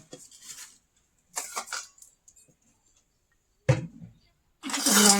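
A metal lid clanks onto a pot of rohu fish curry, a few short separate knocks and rattles close by, with quiet gaps between them and no talk.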